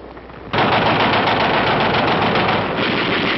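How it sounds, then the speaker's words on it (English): An automatic rifle fires a sustained, unbroken burst in a 1951 Korean War film, loud and dense throughout after a brief quieter lead-in. "The auto rifle."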